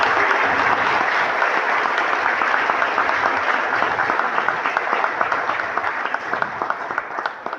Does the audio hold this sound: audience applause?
yes